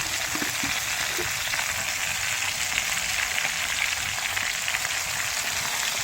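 Taro and Malabar spinach poured into hot oil in a pan on a village stove set off a loud, dense, unbroken sizzle that holds steady throughout, with a couple of faint knocks near the start and no speech.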